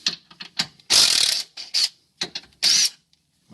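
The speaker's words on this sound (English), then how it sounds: "run out the bolt" A ratchet running out a sway bar mount bolt on a 1999 Subaru WRX: short bursts of rapid clicking alternating with a few longer, buzzing spins, close and loud.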